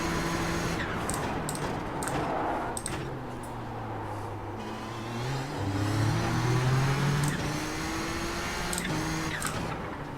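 Nissan ZX-T GTP race car engine in iRacing, droning steadily and rising in pitch through several gear changes, with quick clicks over a continuous mid-level tone and no talk.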